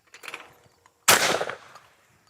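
A Retay Masai Mara semi-automatic 12 gauge shotgun fires a single loud blast at a clay target, a sharp close report with a short decaying tail, preceded by faint handling sounds.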